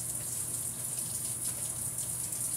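Tap water runs steadily into a kitchen sink during produce washing, a constant close hiss and gush with no breaks or talk.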